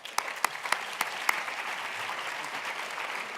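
An audience claps for a keynote speaker at the EAPRIL 2017 conference, starting with a few sharp, distinct claps that blend into steady, moderate applause.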